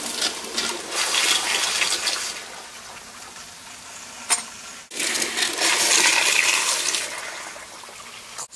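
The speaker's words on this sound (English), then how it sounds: "So we have a very efficient flushing toilet, and we're only flushing 1 gallon per flush." A pressure-assisted toilet using 1 gallon per flush lets out a loud, forceful rushing whoosh, then a quieter refill, a sharp click, and a second powerful surge of water close by.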